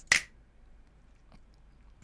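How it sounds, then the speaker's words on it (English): One crisp, close finger snap cracks out sharply at the start and is followed by near silence, with only a faint soft click later, set against a music beat. "I know the exact snap I want to snap on this beat"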